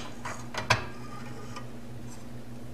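A 14 mm deep socket turned by hand to start threading an oil pump bolt on a 1973 Honda CB750, a few faint metallic clicks and one sharper tick over a steady low hum.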